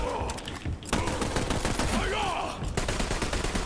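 In the video game Borderlands 3, a double-barrel shotgun fires in rapid, loud, close blasts amid other gunfire and chaotic combat noise, with a player talking.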